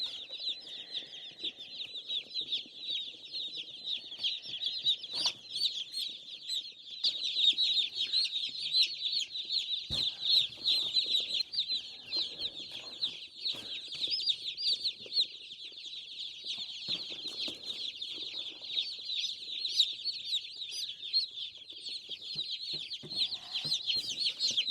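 Dense, continuous high-pitched cheeping from a large crowd of about 102 meat chicks, steady throughout with occasional louder peeps and no talking.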